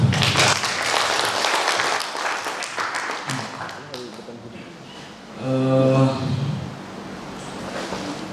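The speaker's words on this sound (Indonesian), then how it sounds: "Bisa tepuk tangan dulu" Applause from an audience at a regional deliberation meeting of a community reading-garden organisation, with dense clapping in the first seconds that thins out, then voices and a brief tonal, music-like sound near the end.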